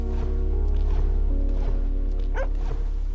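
A dog in the video game Hyper Light Drifter gives a few short yipping barks, spaced irregularly and fairly close, over a steady low background hum.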